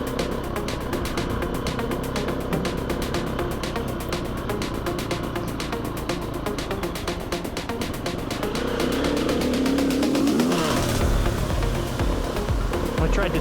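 A motorcycle rides on with a constant droning engine buzz under heavy wind rush, and it revs up and rises in pitch toward the end. No one is speaking.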